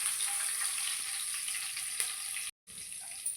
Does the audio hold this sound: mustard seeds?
yes